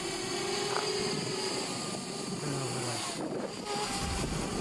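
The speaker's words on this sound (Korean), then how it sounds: "이때 들려오는 드론의 비행 소리." Military drone flying overhead at night on the Ukrainian front, a steady droning hum with a faint wavering tone, heard continuously under wind and broadband noise with no voices.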